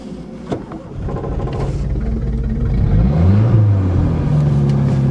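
Farm transport vehicle in third gear on a winter day with a wheel spinning, a steady close engine rumble that rises in pitch as the wheel whirs, with no voices.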